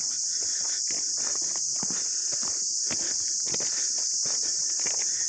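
Footsteps crunch at a brisk, steady pace along the Ayubia Pipe Line hiking trail. Each step is close and distinct over a constant high chirring of crickets, and no one speaks.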